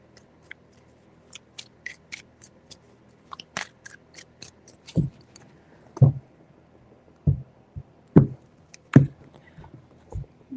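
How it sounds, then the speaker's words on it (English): Tarot cards shuffled by hand in a quiet room, a run of crisp riffling snaps and soft card slaps in irregular bursts, close and fairly loud, with no talking. "3 shuffles."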